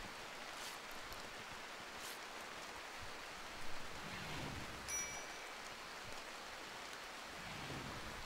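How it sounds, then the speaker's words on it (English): Steady rain in the RimWorld colony game at night, a constant soft hiss of falling drops with faint low rumbles, heard alone with no talk. "It's currently 30 degrees at night time, and it's raining."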